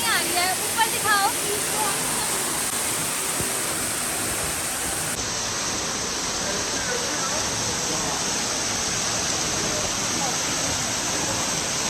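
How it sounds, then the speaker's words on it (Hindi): Jibhi waterfall in the Tirthan Valley roars loud and steady up close, a dense unbroken rush of falling water, with brief bird chirps at the start. "पास पहुंच गए वाटरफॉल के और इतनी तेज आवाज है कि मेरी उसमें आवाज ही नहीं आ रही है।"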